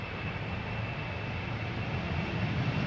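A KLM jet airliner roars on the runway at Schiphol's Polderbaan, a steady loud engine rumble with a faint high whine, continuous and close throughout.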